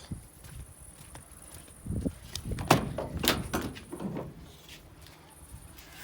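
Door of a 2000 Mercedes Sprinter passenger van being worked by hand, a few thuds and metallic clunks and rattles, moderately close, with a louder knock in the middle.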